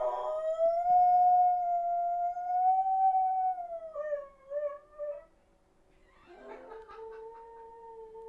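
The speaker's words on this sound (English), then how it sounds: "Can you guys hear the dog?" A dog gives a long, wavering howl indoors, then a shorter rising second howl after a brief pause, clear and fairly close with no talking over it.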